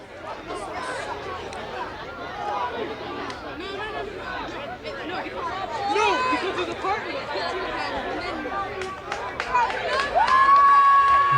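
A crowd at a night football game between the New England Bombers and Rhode Island Riptide in Jamaica Plains, steady stadium chatter and roar that swells midway and again near the end, with voices talking throughout.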